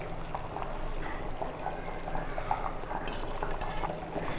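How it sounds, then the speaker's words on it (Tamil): A steady bubbling and hissing of tomato rice with coriander and mint at a rolling boil in a pressure cooker, continuous and close, with faint clinks now and then. "இப்போ இது நல்லா கொதிக்க ஆரம்பிச்சிருச்சு."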